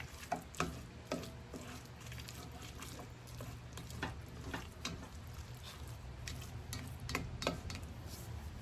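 A spoon stirs flour into a Cajun crawfish Alfredo sauce in a pan, giving soft scraping and light sizzling with scattered clicks of the utensil against the pan, steady and fairly quiet with no talking.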